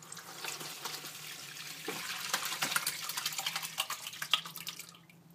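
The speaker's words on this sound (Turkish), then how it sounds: "Şimdi bir kabın içine süzgeç koydum. Kompostumu süzeceğim." Cooled red plum compote is poured through a sieve into a bowl, making a steady liquid trickle and splashing that continues close by and then stops near the end.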